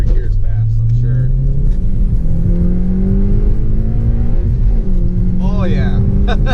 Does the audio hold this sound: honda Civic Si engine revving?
yes